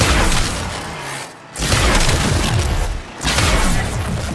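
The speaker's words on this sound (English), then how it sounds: "Gotta love reconnaissance by explosion." Explosions in the video game Warframe boom in heavy, loud bursts that roll on continuously, with two brief lulls between blasts.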